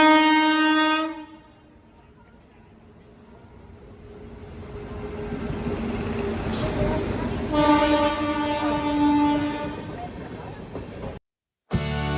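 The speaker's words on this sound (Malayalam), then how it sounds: "അങ്ങനെ നമ്മുടെ ട്രെയിൻ ഇപ്പം വരാനുള്ള അടുത്തെത്തി" A train horn blasts, then a heavy rumbling grows as the train rolls into a station, and the horn sounds again in long, loud blasts before a sudden cut.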